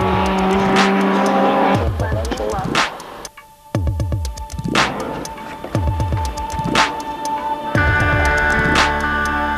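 Volvo S40 racing car on a track, loud engine revving up and down through repeated gear changes with tire squeal, close and continuous, with a voice talking over it.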